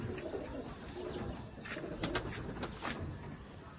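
White-eyed pet pigeons in a fancier's collection cooing softly, a few faint, low coos close by in a quiet space.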